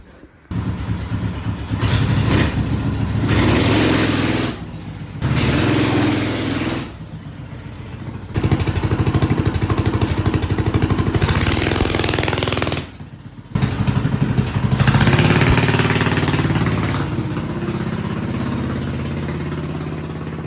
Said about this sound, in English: I just can't go out to the yard with this open header. It's gonna be super duper loud. And yeah, let's get it going. Let's drive it.